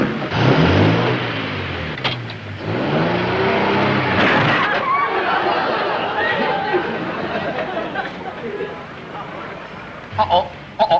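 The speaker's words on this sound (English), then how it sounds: "Listen to that engine purr." Old car engine running with tyres skidding, a rough motor rumble and screeching under loud, overlapping speech from several people.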